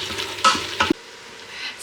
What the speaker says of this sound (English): So I'm going to give it a stir, and then we can get in some extra ingredients added in once we've browned the mince a bit.